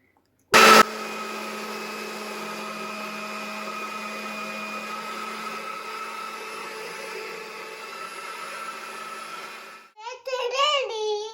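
A mixer blender grinding a strawberry milkshake, starting with a sharp jolt and holding a loud, steady whirring drone for several seconds before stopping, followed by a voice.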